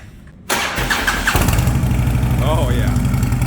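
A Harley Road King with Vance and Hines exhaust cranks and fires up close, roaring loudly before settling into a deep, throbbing idle, with a voice briefly audible over the engine.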